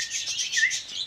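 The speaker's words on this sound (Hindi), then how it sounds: "सीटियाँ भी मारता है ये वाला तोता।" A pet parrot gives a short, high, warbling whistle, a close and fairly loud series of tweeting notes with no other sound.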